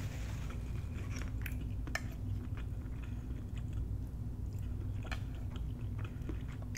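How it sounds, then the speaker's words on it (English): Close, quiet chewing and sucking on a Jamaican oxtail bone, with soft wet smacks and scattered clicks over a low steady background hum. "Suck on that bone a little bit"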